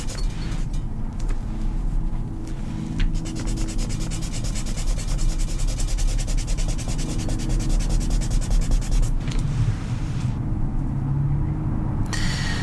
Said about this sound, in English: I'm using a kneaded eraser, but you can use a hard eraser for this as well.